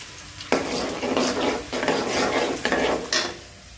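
Food frying in a pan with continuous loud sizzling and stirring, and brief clinks of a utensil against the pan, with no one speaking.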